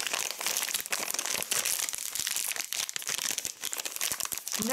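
Sealed plastic packaging of spirulina and chlorella capsules crinkles and crunches close up, a dense, continuous rustling with irregular sharp crackles throughout and no speech.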